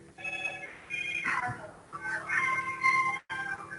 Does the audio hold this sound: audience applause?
no